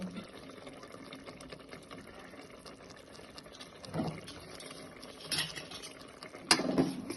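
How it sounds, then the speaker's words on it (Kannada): A chicken curry with ginger-garlic paste and masala simmers in a pot with soft, steady bubbling. A few louder splutters and pops break through the low, quiet background. "ಇವಾಗ ಸ್ವಲ್ಪ ಚೆನ್ನಾಗಿ ಬೇಯ್ತಾ ಇದೆ, ಕುದೀತಾ ಇದೆ"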